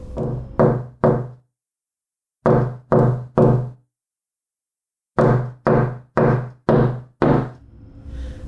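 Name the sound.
knocking on a front door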